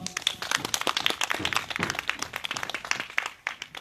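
A small audience at a Seongju candlelight gathering claps steadily for a speaker, producing dense, continuous applause at close range that thins slightly toward the end, with no voices over it.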